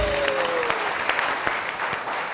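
A studio audience on a television morning show claps in a broad, even patter, sustained and moderately loud with a few sharper individual claps standing out, running the full couple of seconds.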